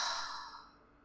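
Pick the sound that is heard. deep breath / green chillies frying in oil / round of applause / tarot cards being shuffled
deep breath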